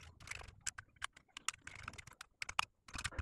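Rapid, irregular typing on a Commodore 64 keyboard with sharp clicks and short pauses, fairly close and moderately loud, no voices.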